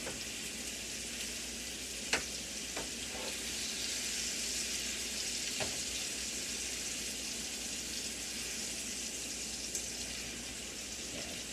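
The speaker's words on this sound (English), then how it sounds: "So I'm using a metal spatula." A metal spatula with a rubber handle stirs food sizzling in a pan while enchiladas are cooked. A steady close frying hiss runs throughout, broken by a few sharp scraping clicks, with no talking.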